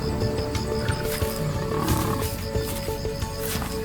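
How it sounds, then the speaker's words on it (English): A pride male lion roars at night in a humid savanna, close and loud, with deep rolling bursts over a dense background of night ambience and faint rumbles like distant thunder. "The pride male still guards his territory, his roar echoing through the humid night."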